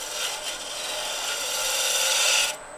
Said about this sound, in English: you can take this as a pull cut, shear scrape all the way up the side of the box